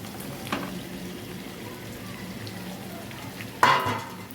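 Chicken meat drops into a frying milk roast masala, giving a soft steady sizzle with a couple of brief louder splashes and scrapes, close and fairly quiet.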